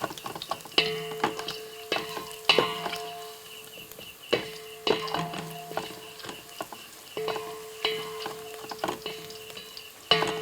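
Pieces frying in a pan while being made into chutney, with steady sizzling and repeated sharp stirring scrapes and taps of a spoon against the pan, close and rhythmic, no talking.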